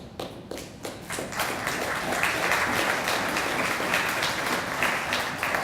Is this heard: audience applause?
yes